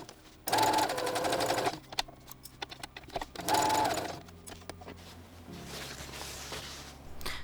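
Sewing machine stitching an outer linen layer onto duck canvas, two loud bursts of rapid mechanical stitching separated by quieter handling noises and a softer run near the end.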